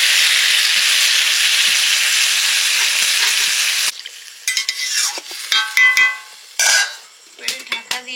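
Water poured into a frying spice mixture in a pan, a loud continuous hiss that abruptly drops into bursts of bubbling sizzle and clinks of a spoon against the pan.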